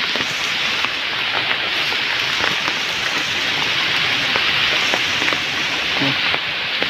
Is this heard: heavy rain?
yes